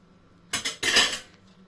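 A spoon clinks and scrapes against a glass of iced coffee in two quick bursts of stirring, close and fairly loud, then fades out.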